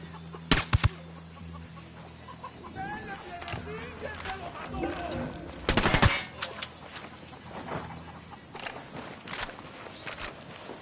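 Scattered gunshots from a PS4 shooting game, a few sharp cracks spaced apart amid footsteps, movement and low background noise, with voices talking at times.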